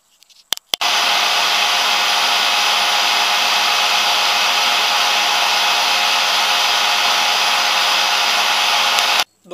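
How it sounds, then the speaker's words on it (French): An electric hand mixer whipping egg whites in a bowl for a floating island dessert: a loud, steady high-pitched whirring buzz that starts after a few clicks and runs unbroken for about nine seconds before stopping. "mon batteur fait beaucoup de bruit"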